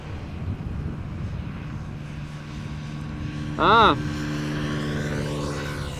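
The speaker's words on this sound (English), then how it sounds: "A321neo going back to Toronto Air Transat" Air Transat A321neo airliner departing Amsterdam Schiphol on a windy day, a continuous broad jet engine roar at a distance with wind noise, joined by a brief tonal whine near the end.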